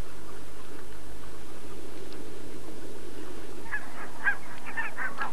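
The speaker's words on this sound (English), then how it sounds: "Barnacle geese that have bred up in Spitsbergen under a midnight sun." Barnacle geese honk in a loose cluster of calls toward the end, over a steady low background rumble.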